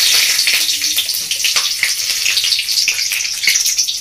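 A green chili drops into hot mustard oil and spits loudly, a bright, dense crackle and sizzle that stays close and continuous throughout.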